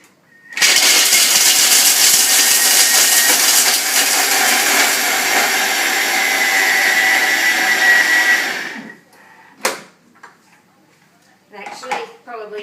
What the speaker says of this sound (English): about 7 seconds on speed 9 just to grind up your chocolate